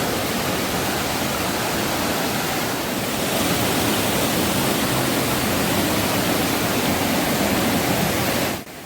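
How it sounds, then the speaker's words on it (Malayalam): A stream flows steadily at Kadavupuzha waterfall near Kottayam, Kerala: a dense, even rush of water that holds at a constant loud level throughout, with no voices. "നമ്മൾ ആദ്യം വന്ന ഭാഗമൊക്കെ ചെറിയൊരു അരുവിയായി കണക്കാക്കാം"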